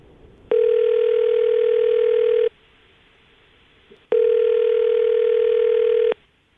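An outgoing telephone call on a morning radio show rings at the other end: two loud, steady electronic ringback tones of about two seconds each, separated by a quiet pause of about one and a half seconds.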